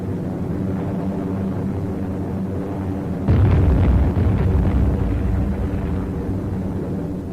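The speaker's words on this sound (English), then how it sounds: "In the spring of 1945, American and Australian bombers opened up on Borneo" Bombs from American and Australian bombers striking Borneo in spring 1945 burst into a loud, sustained rumbling roar partway through, rising abruptly over a steady droning background and holding heavy through the end.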